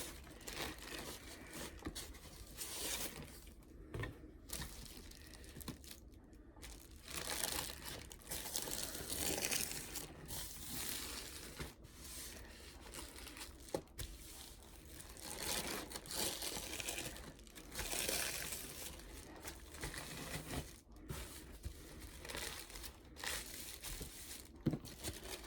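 Reused tissue paper crumpled and crinkled by hand while packing eBay orders, a steady rustling texture with occasional tearing-like bursts, close and continuous throughout with no talking.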